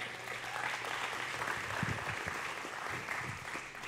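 Church congregation applauding during a worship service, steady continuous clapping from a crowd filling the room at moderate loudness throughout.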